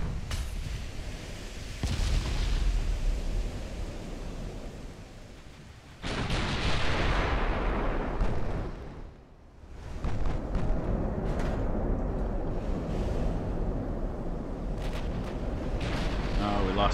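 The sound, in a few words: warship secondary guns firing in Ultimate Admiral: Dreadnoughts video game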